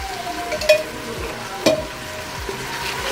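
Kofta mixture frying in oil and stirred in the pan, a steady low sizzle under two sharper scrapes of the spoon, close and alone without speech.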